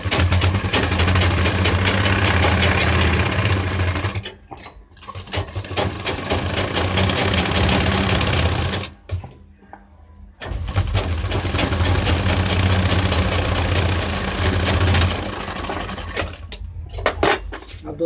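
Sewing machine stitching around a pant pocket: a loud, steady mechanical whir with rapid needle clatter, stopping briefly twice and restarting, close to the listener.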